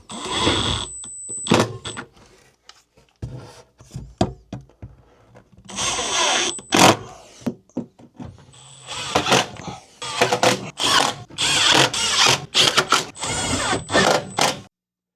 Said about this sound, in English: I'm going to use these little Tech screws to screw them in from underneath from the pre-drilled holes